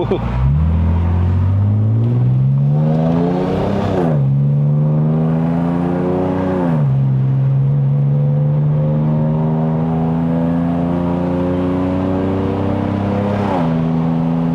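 A Lexus RC350 V6 with an eight-speed gearbox revs hard under throttle on a mountain road drive. Its loud droning engine note climbs through several gears in rising sweeps, drops at each shift, then holds a steady pitch. Someone talks over it.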